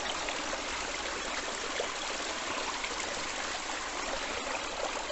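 A stream in Miedzyń, Bydgoszcz, runs beneath a wooden footbridge, a constant, close rush of flowing water that stays even and loud throughout with no voices.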